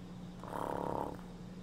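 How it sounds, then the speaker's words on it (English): A single slow, soft breath of people sleeping in a camper van in Persona 5 Strikers swells and fades over a low steady hum, close and quiet. "I fell asleep to the sound of everyone's peaceful breathing."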